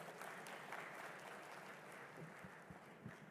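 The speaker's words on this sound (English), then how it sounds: "let's welcome him with a round of applause." Faint, distant round of applause welcoming a speaker to the podium at a Tanzania–Singapore business forum, steady throughout with occasional voices underneath.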